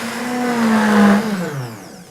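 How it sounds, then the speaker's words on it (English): A blender runs on high, whirring through banana and coconut pudding with almond milk, a loud near whine that sags slightly in pitch under load and then winds down toward the end. "Doesn't take long to blend up something soft like a banana."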